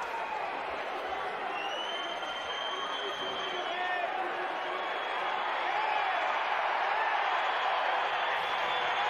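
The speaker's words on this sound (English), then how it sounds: "the crowd really getting into it with Astudu complaining" A basketball arena crowd at a women's EuroLeague quarter-final jeers and roars continuously at a loud, steady level, a dense wall of voices that builds slightly toward the end.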